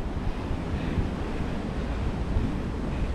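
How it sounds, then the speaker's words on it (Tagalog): Steady wind rushes across the microphone with a continuous low roar, with no voices. "mahangin tsaka malamig."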